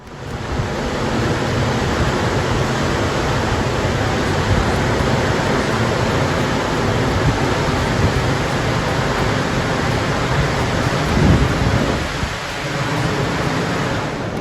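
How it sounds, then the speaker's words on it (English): A steady, loud roar of rushing water fills the whole stretch, broad and unbroken, from Montmorency Falls close by. "There's a bit of running water behind us. It's called the Montmorency Falls."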